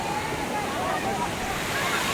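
Water runs steadily out of a raised village pond, a continuous rushing, splashing flow heard up close and fairly loud throughout.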